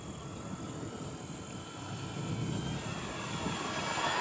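FMS Pitts 1400mm radio-controlled aerobatic biplane on its maiden flight, doing inverted passes: a steady, droning motor and propeller whine that holds throughout and swells slightly louder as the plane comes closer, with no voices.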